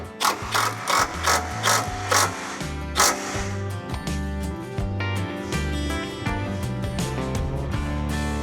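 A ratchet wrench with a 13mm socket tightens M8 bolts on a fuel tank skid plate of a 2020+ Ford Super Duty F-250/F-350, producing repeated rapid pawl clicking strokes in bursts, close and fairly loud, with no talk.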